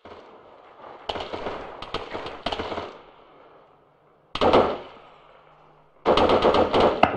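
Airsoft guns firing during a team skirmish game outdoors, with rapid bursts of sharp cracking shots in several clusters, separated by quieter gaps, fairly close and loud.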